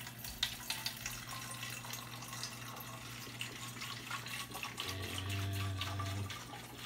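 Tap water runs steadily into a plastic spray bottle in a home setting, a continuous moderate rush with a deepening fill tone toward the end, no talking.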